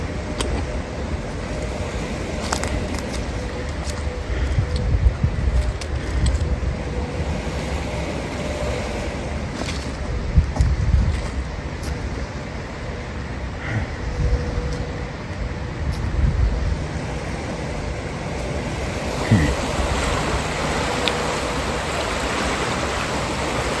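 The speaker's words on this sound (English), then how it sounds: "I know this river's causing some noise pollution" The Conneaut Creek flows at night in a steady, broad rushing wash close by, with small swells in loudness and no one speaking over it.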